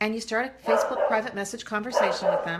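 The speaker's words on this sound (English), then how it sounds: "Sorry for my dog. He's always barking when I'm talking." A pet dog barks and yips repeatedly close by, its short sharp barks breaking in and out under a person talking steadily throughout.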